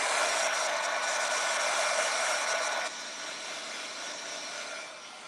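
A handheld dryer blows a steady, loud rushing stream of air over a shrink-plastic craft piece, close to the mic, dropping slightly in intensity partway through and continuing alone without talk.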